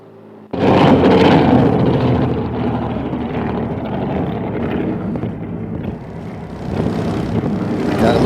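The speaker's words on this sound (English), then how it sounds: "Man, listen to that thing. That's a great car. That GTR is a great car." A Nissan GT-R race car engine at a track roars in loud and close after a brief quiet start, holding a steady throbbing drone that dips slightly midway and swells again at the end, with no talking.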